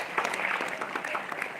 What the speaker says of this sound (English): Clap for the young lady here